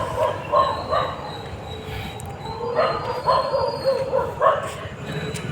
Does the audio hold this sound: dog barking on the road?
yes